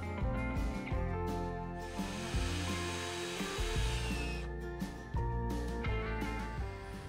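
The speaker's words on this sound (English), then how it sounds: "On these, I would apply some wood glue and then drive in 2 screws per connection." A power drill drives screws into a wooden outdoor sofa frame made of 2x lumber, with several loud whirring bursts of rising motor pitch and brief pauses, close up and without talk.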